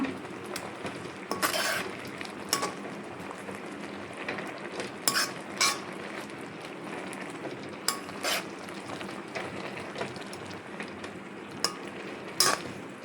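Ginger garlic paste frying in a pan for a paneer palak gravy, a soft continuous sizzle under frequent stirring scrapes and light clinks of a spoon against the pan, close by, with no talking.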